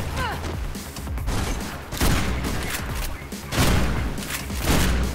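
Gunshots in Mirror's Edge ring out as sharp, loud bursts, several in quick succession with brief gaps between them, amid game noise and some voice.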